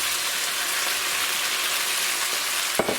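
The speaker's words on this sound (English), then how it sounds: "Now I'm going to put in the cauliflower." Cauliflower goes into a pan of hot sauce and fries with a dense, continuous sizzle, close and even throughout, with a brief stirring clatter near the end.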